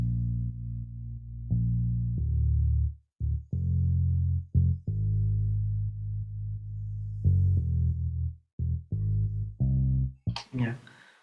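Remake of a melody built in Logic Pro X, a low synth line layered with deep sub bass, playing sustained and short notes in a halting rhythm, fairly loud, with a brief noisy burst at the end.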